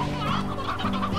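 Chickens in the Slime Rancher game give a short burst of soft, close clucking over a steady game soundtrack.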